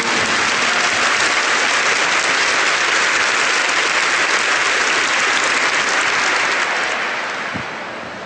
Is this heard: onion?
no